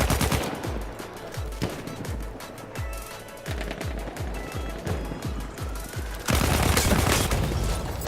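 Rapid bursts of submachine gun fire in Battlefield 1, a fast-cycling weapon with heavy recoil, crackling in repeated close, loud volleys with short pauses, ending in a sustained heavier barrage.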